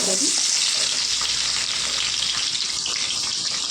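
Half a kilo of chicken and large sliced onions fry in hot oil, a loud, continuous sizzle with crackling and stirring scrapes, close by and uninterrupted.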